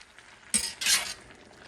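A utensil scrapes and clinks in a pot of black-eyed peas and collard greens, two short stirring scrapes close by in an otherwise quiet kitchen.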